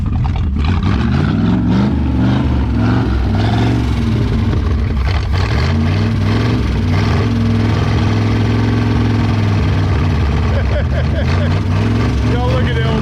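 Old engine of an abandoned 1973 Mercury Comet GT running roughly after 35 years unstarted, a loud, steady low rumble that struggles to hold idle, with people talking over it throughout.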